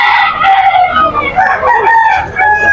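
Pumpkin hennie gamefowl roosters, including a seven-month stag, crow loudly and close by, with several drawn-out crows overlapping one another in a dense, continuous chorus.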